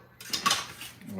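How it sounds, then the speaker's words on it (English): A butter knife clinks briefly against dishes, giving a short, light metallic rattle at close range, fairly quiet, with no talking over it. "I got a butter knife"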